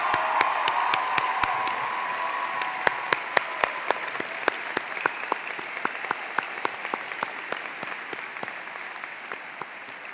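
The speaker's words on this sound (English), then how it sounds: "can we get one more round of applause for our amazing principal and our amazing graduates?" A crowd claps for the principal and graduates at the Centennial High School 2018 commencement, with sharp individual claps standing out over a steady background of applause that slowly fades.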